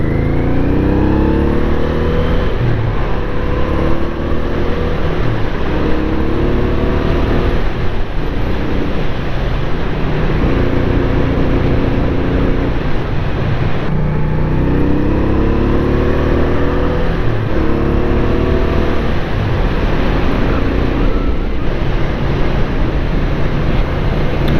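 A classic Honda motorcycle engine runs steadily while riding, a continuous loud drone with rising and falling revs as the bike shifts through gears, wind rushing over it the whole time.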